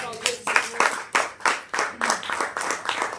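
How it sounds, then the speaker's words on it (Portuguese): A church congregation claps together in a quick, fairly regular rhythm, loud and close, with voices mixed into the applause. "Vamos aplaudir o Senhor."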